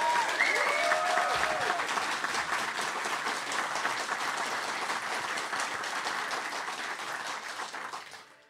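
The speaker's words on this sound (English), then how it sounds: "So please, join me in a round of applause for everyone that has helped make this" Sustained applause from an audience at an EverQuest fan gathering, a dense, even wash of many hands clapping that holds steady and then tapers off at the end, with a brief voice at the start.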